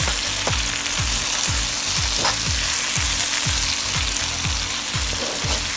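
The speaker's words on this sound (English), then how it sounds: "I'm going to add some spring onion and then fry it for some more." Basil leaves and spring onion fry in a pan for chicken pasta in tomato sauce, with a loud, constant sizzle and a regular series of low knocks from stirring against the pan, close up.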